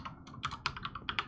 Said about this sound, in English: Verify it by typing it in again.